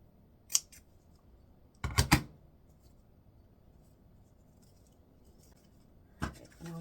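Scissors snip the angled tails of a ribbon on a Valentine charger plate bow, a couple of crisp quick cuts with a faint snip early on and another near the end, in a quiet room.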